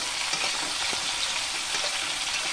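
Tomatoes and green chillies frying in a pan over a medium-to-low gas flame for a pumpkin dish, a continuous close sizzle with soft scraping stirs beneath it and no voices.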